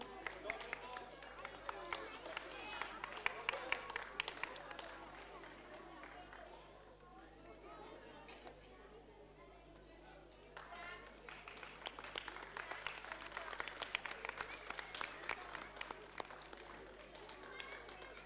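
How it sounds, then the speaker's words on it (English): Applause from the audience at an Ammucare 21st anniversary event, faint scattered clapping mixed with crowd chatter and children's voices, a low hum running underneath, the clapping swelling toward the end. "Can we have a huge round of applause for our anchor?"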